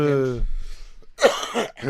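A single cough or throat-clear bursts out after a voice, short and close, with more talking right after it.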